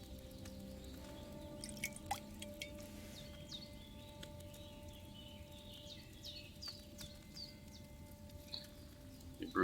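Liquid poured while brewing a chamomile potion in Kingdom Come Deliverance 2, faint dripping and trickling with soft splashes over a quiet background hum, distant and low with no talk.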